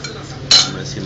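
Cutlery clinks against a plate during a family meal, one bright metallic clatter standing out over a quiet room.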